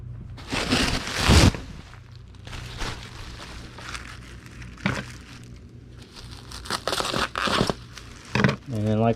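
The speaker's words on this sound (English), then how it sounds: "So we'll get a sheet of bubble wrap and we'll cut it in half." Bubble wrap crinkles and crackles as a sheet is handled and cut in half for wrapping an item, bursts of plastic rustling coming in waves over a faint low background.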